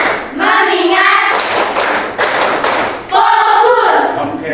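Students clap a patterned rhythm for the 'tepuk fokus' class chant, the claps framed by chanted group voices at the start and end, close and energetic.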